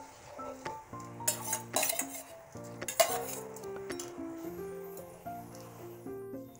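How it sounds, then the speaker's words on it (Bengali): Moong dal goes into a pot of boiling water, giving brief clattering pours and light metallic pot clinks over steady background music. "জলটা ফুটে গেছে, এবার আমি এর মধ্যে দিয়ে দিচ্ছি ডালটা।"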